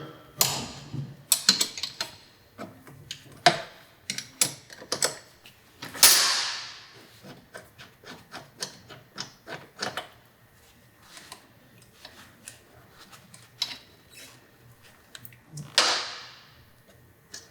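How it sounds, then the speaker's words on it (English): A 12mm wrench works on the rear brake master cylinder of a Honda Grom during a brake kit install, giving irregular metallic clicks and ticks over many seconds, with a few louder clanks and scrapes, close by and with no talking. "We need our 12mm wrench, which is right here."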